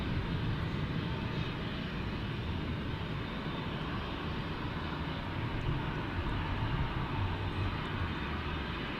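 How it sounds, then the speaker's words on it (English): A Boeing 787 Dreamliner airliner at an airport produces a steady, distant broadband jet roar that holds evenly throughout, with no speech. "The 787 Dreamliner, probably Catfish. The old 787."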